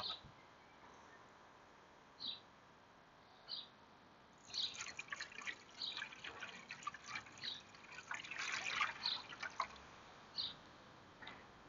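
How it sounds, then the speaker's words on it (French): Water poured into the reservoir of a countertop garden, faint separate drips at first, then a busier stretch of trickling and splashing, quiet and close. "On va mettre de l'eau dedans"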